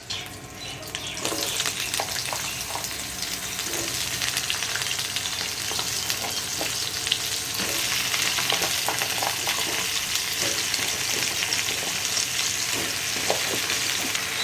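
Cut bottle gourd fries in a hot pan on a gas stove with a dense, steady sizzle. Soft stirring clatters run underneath throughout, close and fairly loud.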